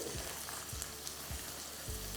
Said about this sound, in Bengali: দেখুন আমি ঠিক যেভাবে ভাজছি সেভাবে আপনাদের এটাকে ভালো করে ভেজে নিতে হবে